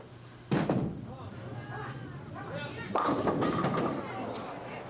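At a 1981 professional tenpin bowling title match in Portland, Oregon, a bowling ball crashes into the pins twice. The two sharp, moderately loud impacts are separated by a few seconds, with a commentator talking throughout.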